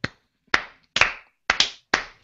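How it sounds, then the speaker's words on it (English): Five loud, close slaps of hands on a bare belly in an uneven rhythm, each a sharp smack followed by a quick decay, with no talking. "Belly claps for everybody"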